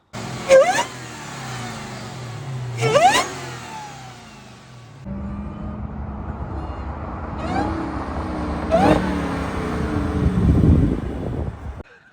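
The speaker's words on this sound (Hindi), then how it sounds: "उससे कहीं ज्यादा क्रेजी इसकी सुपर चार्ज वाइन है, स्पेशली अराउंड 3000 RPM भी। Take a listen." A 2023 Dodge Charger SRT Hellcat Redeye's supercharged 807-horsepower engine blips sharply twice, then revs in a longer sustained run with rising supercharger whine, loud and close, with some wind noise.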